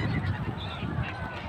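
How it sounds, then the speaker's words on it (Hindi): A flock of Siberian migratory birds honking and calling like geese, continuous and fairly near, at the Magh Mela in Prayagraj on the river, with no talk over it. "साइबेरियन पक्षी है जो कि चारों तरफ हमारे दिख रहा है"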